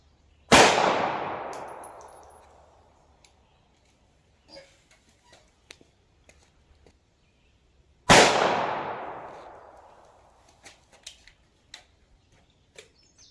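Two .380 ACP Hornady American Gunner XTP rounds fired into a ballistic gel block, each a sharp loud crack with a long decaying ring, about seven seconds apart, followed by faint ticks and clinks.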